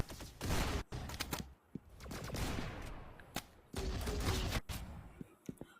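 Sniper rifle fire in the Roblox game Arsenal comes as loud, booming shots and bursts that repeat in quick succession with short gaps between them.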